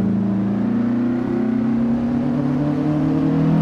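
Engine of a 1960 Porsche 718 RS Spyder in Assetto Corsa on the 1967 Nürburgring Gesamtstrecke, a steady close drone holding a nearly constant pitch with no talk.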